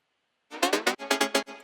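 A high-mid synth layer stabs out a quick rhythmic run of about eight short, punchy notes after half a second of silence, loud and close, with no voices.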